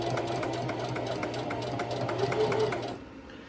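A sewing machine runs steadily, edge stitching a shirt placket in a close, continuous mechanical whir with fast rhythmic needle pulses, stopping abruptly near the end.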